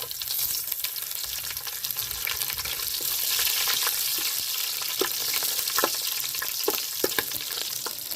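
Green chillies dropped into hot oil for a fenugreek-leaf dal crackle into a sustained close sizzle, broken by occasional sharp pops and stirring clicks, with no talk.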